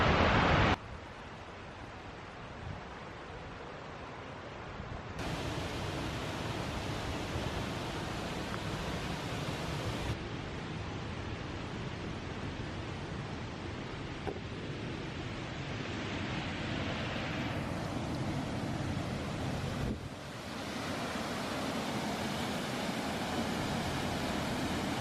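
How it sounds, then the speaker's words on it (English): The Falls of Falloch waterfall in Scotland gives a steady, broad rush of falling water that stays loud and unbroken for about twenty-five seconds, with no voices over it. "the waterfall isn't huge but perfectly formed."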